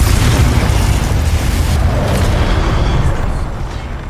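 A Confringo spell explosion in the video game Hogwarts Legacy: a loud, dense, booming blast that fills the whole clip with a rumbling roar, then thins slightly as it fades near the end.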